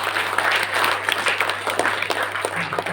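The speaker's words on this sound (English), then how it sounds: "Can we give a big round of applause?" An audience at an entrepreneurship idea-evaluation session applauds with steady, dense clapping that holds throughout, moderately loud with a faint hum beneath.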